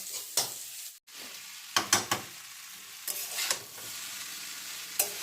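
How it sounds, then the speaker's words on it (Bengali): Onions fry in a pan for a chow mein dish, a faint continuous sizzle punctuated by several bursts of spatula scraping and stirring, close and without talk. "পেঁয়াজগুলো আপাতত ভাজা হচ্ছে"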